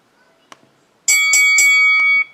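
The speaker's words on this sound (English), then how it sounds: "A boxing ring bell sound." A boxing ring bell sound effect strikes three or four times in quick succession, bright and loud, then rings out with a sustained metallic tone after a faint knock and near silence.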